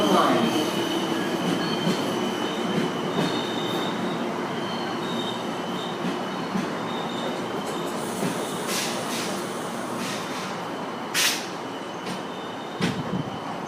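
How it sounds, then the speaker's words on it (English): A commuter train rolls into Westwood station with a continuous rumble of wheels on rails, occasional squeals and metallic clanks, and a few sharper bangs near the end as it nears the platform. "Train approaching."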